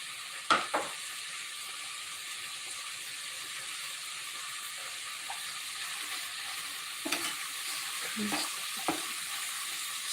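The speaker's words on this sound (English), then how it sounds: "give this a stir" A spoon stirs wagyu meat sauce in a pan over a low steady sizzle, with a few sharp scraping knocks against the pan, no voices.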